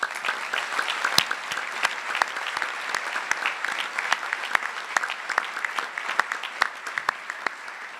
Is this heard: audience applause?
yes